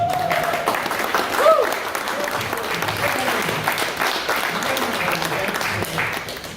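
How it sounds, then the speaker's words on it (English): An audience at a presentation event applauds in a steady, sustained round of clapping, moderately loud and continuous throughout, with a few brief voices surfacing early on. "Let's give him a big round of applause."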